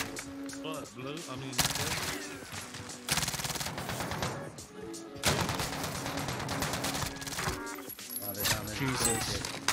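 Video game gunfire shoots through windows, with rapid automatic bursts and single cracks in dense, repeated volleys, while a voice talks over the shooting throughout.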